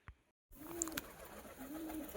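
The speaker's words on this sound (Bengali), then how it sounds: "ফাইনালি আমাদের পায়রাদের ল্যান্ডিং আমার হচ্ছে।" Pigeons coo softly at a loft as they land, with low murmuring calls over faint background noise and a brief flutter or click.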